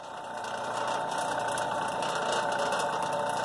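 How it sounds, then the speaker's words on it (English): A small electric motor drives a homemade carburetor cleaner machine, making a steady close mechanical hum and whir with light rattling vibration, running alone without talk. "Then you turn on my little electric motor here."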